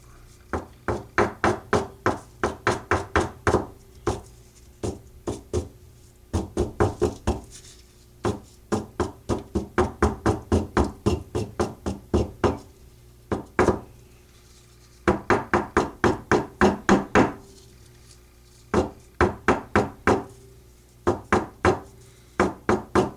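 A rasp strikes the edges of a paper potion jar label, giving rapid bursts of sharp close tapping in quick runs separated by short pauses.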